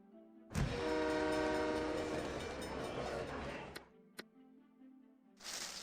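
A train in SimCity 3000 sounds loud and alone: a sustained horn blast with harmonic tones for about three seconds over rumbling rail noise, then quiet, a couple of sharp clicks, and a new surge of noise at the end.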